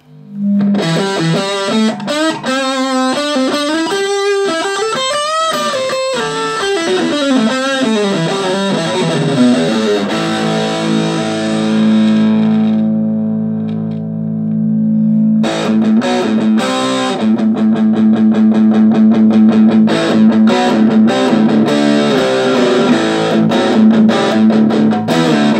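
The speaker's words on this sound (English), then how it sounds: "And I'll stick in the distortion channel." An electric guitar roars through a Fender Frontman 15G combo amp on its distortion channel with gain turned fully up, playing fast bending riffs, then a long sustained chord and dense chugging, loud and saturated throughout.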